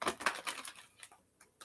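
Tarot cards being shuffled by hand, a run of crisp riffling bursts that come close together and then thin out into a few scattered soft snaps, close and fairly quiet.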